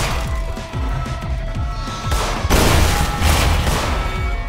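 Loud, rapid gunfire from the psychological horror game In Sound Mind, a dense barrage of repeated shots and thuds that swells louder midway and continues without pause to the end.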